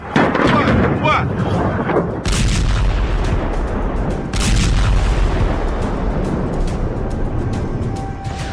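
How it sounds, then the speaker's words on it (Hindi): Cluster bombs released from an Iranian Khorramshahr missile explode on the ground, loud booming blasts and a continuous rolling rumble with sharp bursts at the start, near the middle and later, and voices mixed in underneath. "खुर्रम शहर मिसाइल से निकले क्लस्टर बम जमीन पर क्या कोहराम मचाते हैं।"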